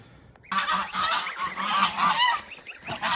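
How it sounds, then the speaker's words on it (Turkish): A broody goose tending its goslings honks loudly and repeatedly at close range, a harsh run of calls that fades briefly at the end. "Böyle güzel bir kaz bu."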